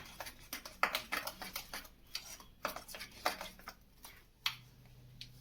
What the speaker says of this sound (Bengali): এটা একটু নেড়ে নেব যাতে এটা বেশি করে ডার্ক হয়